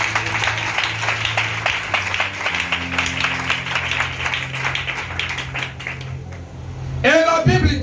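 A church congregation applauding at a sermon, dense clapping sustained over a steady background hum, fading out near the end before a loud voice cuts in.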